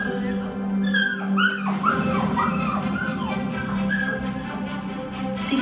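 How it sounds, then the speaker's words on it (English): An injured puppy in pain whimpers and yips in a string of high, wavering cries that rise and fall over several seconds, close and clear over a low steady hum. "She found an injured puppy who was in pain"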